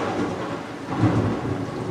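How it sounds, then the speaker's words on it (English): Heavy rain pours down outside in a dense, continuous hiss, with a low rumble like distant thunder swelling briefly midway. "it's raining like a mofo outside"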